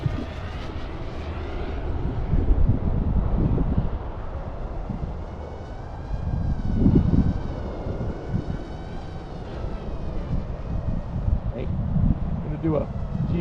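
An airliner passes overhead at an open flying field, a broad engine rumble that swells and fades with some wind buffeting, while a person talks over it.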